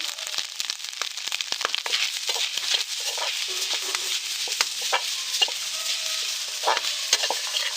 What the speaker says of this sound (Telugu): కొబ్బరి వేపుతాను గుట్లో కొంచెం నెయ్యి వేపించాను వేసానండి కొబ్బరి వేపుతాను